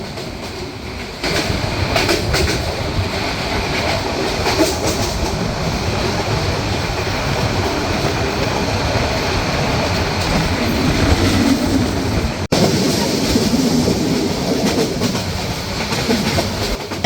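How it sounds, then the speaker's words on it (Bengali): Burimari Express passenger train running through a station in Bangladesh on the Dhaka to Lalmonirhat route, a loud, steady rumble of carriages with rhythmic wheel clatter continuing throughout, with no talking. "এখন যে স্টেশনটি থ্রুপাস করে যাচ্ছি এটা কিন্তু বেশ জনপ্রিয় একটি স্টেশন"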